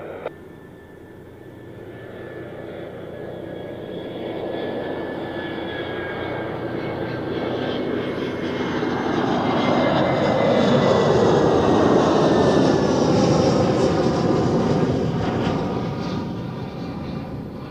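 An EasyJet airliner from Malaga roars past with its jet engines, a broad, loud rumble that swells steadily and peaks toward the end, heard alone without talk.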